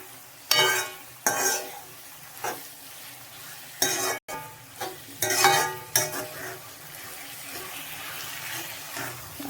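Sliced onions sautéing in a pan for chicken curry, stirred in short scraping bursts over a soft, continuous sizzle, close and moderately quiet with no talking.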